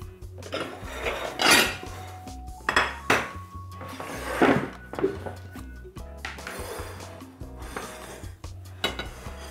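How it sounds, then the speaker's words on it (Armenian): Ceramic bowls and dishes clink and clatter as they are taken out and set down in a home kitchen while preparing fried sandwiches, with several sharp knocks and scrapes spread across the clip and no talking. "Վերցնում ենք հարմար ամաններ"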